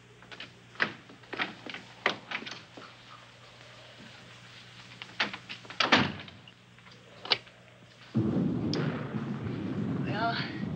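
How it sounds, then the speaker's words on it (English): An old mystery-film scene where a bedroom door is shut and locked: a series of sharp knocks and clicks, then a heavy thud as the door closes, followed by a louder rustling, close to the listener. "This door seems good and solid."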